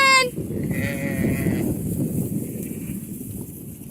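Ewes bleat on a farm pasture: one clear, fairly close bleat at the start, followed by fainter calls from other sheep over a steady breezy outdoor background.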